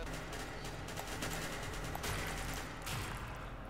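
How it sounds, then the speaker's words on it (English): Gunfire in an SCP facility video game, a rapid, continuous burst of automatic shots that is quiet and fairly distant. "someone's shooting me"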